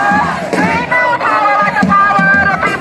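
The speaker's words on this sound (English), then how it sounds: "I wanted to let them get their little catchy chant in." A protest march crowd of roughly sixty people chants a short catchy slogan in unison, loud and steady throughout with overlapping voices and no pauses.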